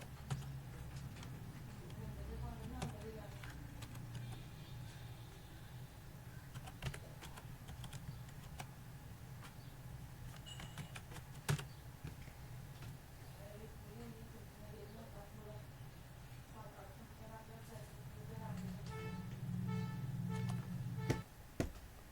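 Steady typing on a computer keyboard as text is entered for a business card design, a long run of close, brisk key clicks with short breaks, while someone speaks Hindi over much of it.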